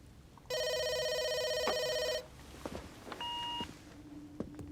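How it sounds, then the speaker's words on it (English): A telephone rings with a steady electronic tone for under two seconds, followed by a brief beep and light background clatter in a quiet room. "Adam, there's an incoming phone call from Washington, D.C. for Trainer Styles."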